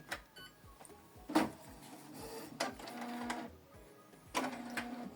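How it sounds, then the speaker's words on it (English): A Canon Pixma TR4756i printer powers up with a quiet run of close mechanical whirs, clicks and short motor bursts at irregular intervals, with no talking. "Switch the printer on from this button."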